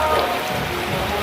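Rain falls in a steady wash of patter on a surface close by, with voices faintly mixed in beneath it.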